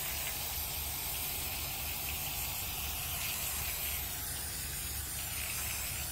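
A steady, continuous hiss of a contact adhesive spray can spraying, unbroken for about six seconds, close and even in level.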